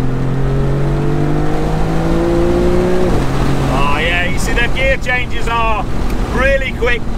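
Maserati MC20 Cielo supercar engine revving loud and near, with a falling pitch at a quick gear change followed by sharp rising revs through further fast shifts on tarmac, alongside a voice.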